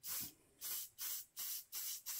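Gray spray paint hisses from an aerosol can onto a Phantom of the Opera mask in six short, evenly spaced close bursts, with brief silences between them and no talking.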